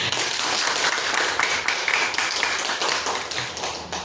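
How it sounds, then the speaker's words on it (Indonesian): A classroom of students breaks into steady, dense clapping, close and loud, sustained throughout without pause. "kasih aplaus untuk anak-anak"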